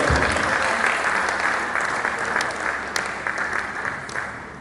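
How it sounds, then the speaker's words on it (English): An audience at a University of Ibadan research event claps together in sustained applause, dense and even, fading slightly toward the end. "Let's clap for them, please."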